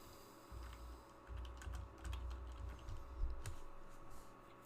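Quiet, close typing on a computer keyboard during Excel data entry, an irregular run of light key clicks over a low background hum.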